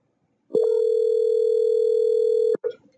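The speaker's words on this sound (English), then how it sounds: "I can hear it ringing, and it's ringing on my end too." A single long, steady electronic tone from a Google Voice call placed in a web browser sounds loud and clear for about two seconds. It starts and stops sharply, and a brief click follows.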